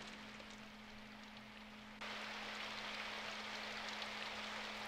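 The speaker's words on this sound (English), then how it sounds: "Entranced by the sound of the rain pattering against the window," Steady rain patters against a window in the 2003 visual novel Symphonic Rain, a continuous soft hiss that swells louder partway through, with a faint steady tone humming underneath and no voices.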